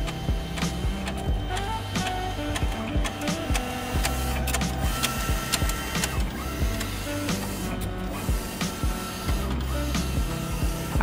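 A Mimaki printer runs a roll-media print job, its carriage moving back and forth with a steady mechanical whir, clicks and ticks, and periodic low motor bursts, close and continuous with no voices.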